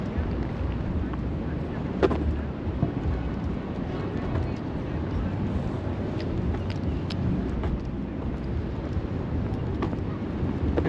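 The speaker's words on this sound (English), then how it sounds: "It's very windy today" Strong wind by the sea at Blackpool, a steady, loud, low roar buffeting the microphone without a break, with faint voices and distant background activity beneath it.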